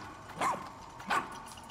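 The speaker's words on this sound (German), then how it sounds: "Nee, der kann nur bellen." Two short barks from a dog character in the video game Pikmin 4, evenly spaced and clear over a steady game background hum, with no talk.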